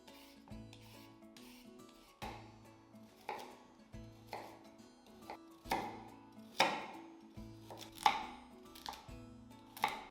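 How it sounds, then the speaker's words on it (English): Carrots being peeled and chopped on a board, a series of rasping scrapes and knife strikes at an irregular, unhurried pace, close and fairly quiet over soft background music. "peel and chop your carrots"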